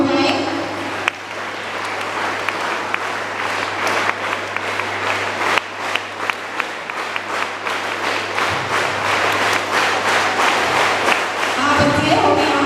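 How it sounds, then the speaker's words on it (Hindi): Loud, dense applause from a crowd at the blessing and inauguration of a school hall, continuous clapping with occasional thumps over a steady low hum, lasting throughout. "जोरदार तालियां हो जाए।"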